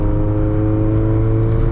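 Honda Civic EF hatchback engine droning steadily from inside the cabin on wet winding roads, a continuous mid-pitched hum with a low rumble and no talk.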